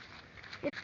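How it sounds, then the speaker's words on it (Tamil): A dog gives a single short bark or yelp near the end, fairly faint against quiet outdoor background noise. "நாய்"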